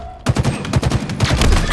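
Rapid gunfire in Halo Infinite ranked split-screen play, a loud burst of evenly spaced shots firing in quick succession after a brief quiet start.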